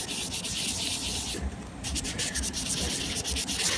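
3M wet-or-dry sandpaper rubs steadily over the plastic housing of a Western Electric 500 desk phone, a close, continuous rasping scrub with a brief pause midway.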